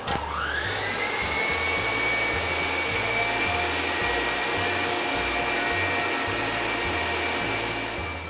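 An electric mixer beating panettone dough made with wheat flour, a loud continuous motor whine that holds steady after a quick spin-up, with background music underneath and no talking.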